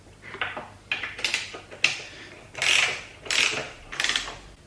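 Rapid ratchet clicking from a wrench tightening an M12 bolt on a crash bar bracket of a Yamaha Tenere 700 motorcycle, close and crisp, in several short bursts of strokes separated by brief pauses.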